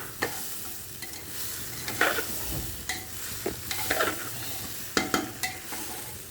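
Vegetable khichuri ingredients fry in a pressure cooker, a continuous close sizzle with irregular spoon scrapes and knocks against the metal pot throughout, and no speech.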